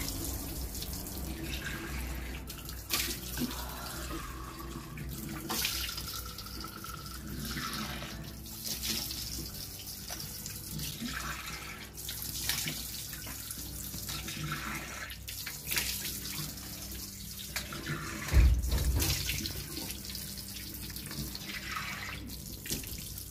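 A tap runs steadily while skin care product is rinsed off, with close splashing and uneven water sounds as hands move under the stream.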